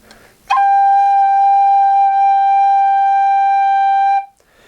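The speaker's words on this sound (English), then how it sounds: "And after that there's three fingers, which is G, and it sounds like this." Held G on an Irish tin whistle, played with three fingers down: one clear, steady tone sustained for close to four seconds, breathy at the onset and ending abruptly, with nothing else audible.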